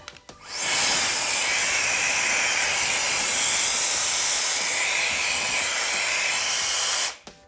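Wolfbox MF100 electric air duster blowing at full speed: a steady, loud, high-pitched whooshing whine that starts abruptly, holds evenly for several seconds, then cuts off, close up with no talking.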